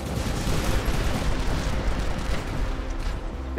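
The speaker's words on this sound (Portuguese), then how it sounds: "fica soltando tiro de sniper." Sniper rifle fire from robots in the War Robots game on PC, heard as a dense, steady wash of battle noise with booming low rumble and no clearly separated individual shots.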